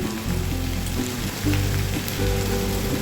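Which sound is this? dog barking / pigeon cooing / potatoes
potatoes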